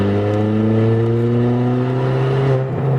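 A Ford Fiesta ST or Focus ST tuned by SOD Tuning, a manual hatchback, accelerates hard with a loud, close, steady engine drone that climbs gradually in pitch, with no talk over it.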